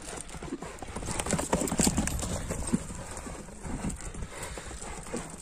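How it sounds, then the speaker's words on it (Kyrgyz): Horse hooves clip-clop steadily at close range, with faint voices and background noise beneath. "Мына ат экен го жаныбар."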